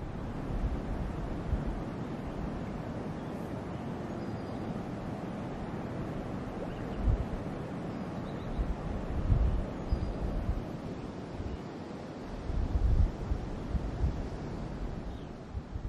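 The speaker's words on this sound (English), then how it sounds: "From here, you can hear the rapids from the Linville River." Rapids of the Linville River in Linville Gorge, North Carolina, heard from a high overlook as a faint, steady distant rush of water, mixed with gusty wind buffeting the microphone.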